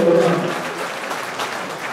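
Audience applause at a live band-introduction event, a brief burst of clapping heard on its own without voices.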